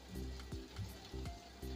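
Cloves and cardamom sizzling in hot ghee as the base for traditional narali bhat, a steady, soft crackling fry with a faint low hum underneath and no voices.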